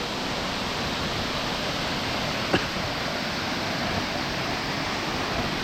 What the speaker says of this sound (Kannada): ಇಲ್ಲಿ ಫಾಲ್ಸ್ ಕಾಣ್ತಾ ಇದೆ, ಯಾವ ಥರ ಇದೆ ಅಂತ.